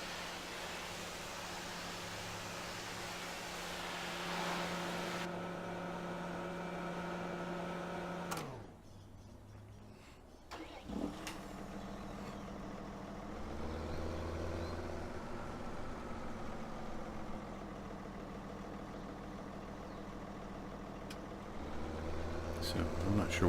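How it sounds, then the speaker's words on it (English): A New Holland tractor engine in Farming Simulator 2017 hums as a steady low drone, pausing briefly before returning at an even level, with a voice talking over much of it. "New Holland, beautiful tractor."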